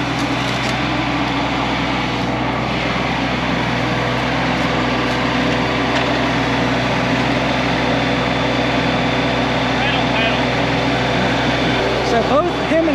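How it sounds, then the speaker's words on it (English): A tractor fitted with an Artillian rock-bucket grapple and a two-pedal transmission runs with a steady, moderately loud engine drone that holds through the whole stretch without pause. "he's just gonna see what a true grapple does and how this tractor operates."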